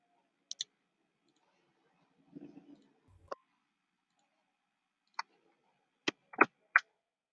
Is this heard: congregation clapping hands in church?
no